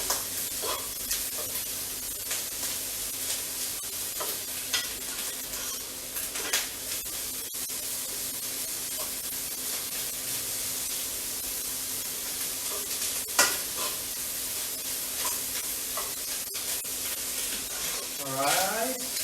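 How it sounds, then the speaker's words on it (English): Bacon sizzling and frying in a pan over medium heat, a steady loud hiss with scattered sharp pops and crackles running throughout, with no voices. "cook it to the point when your bacon starts to pop a little"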